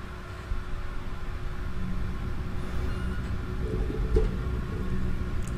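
Computer fan noise whirs loudly and steadily through a gameplay recording of a Resident Evil Village session, a constant broadband rush with low rumble and no talk.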